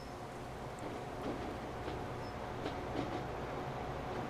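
A train moving in the video game Transport Fever 2 gives a faint, steady rolling rumble with light rhythmic clicks of wheels over track joints.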